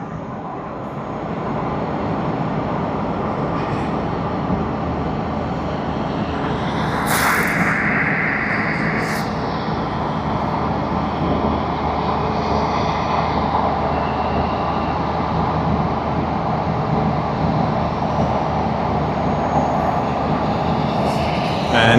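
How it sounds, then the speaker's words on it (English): Steady airport rumble of a Japan Airlines Boeing 787-9 Dreamliner being pushed back at Tokyo Haneda, a continuous broadband engine and ground-equipment drone with a brief higher whine partway through, constant and moderately loud throughout. "787-9 Dreamliner of Japan Airlines being pushed back again."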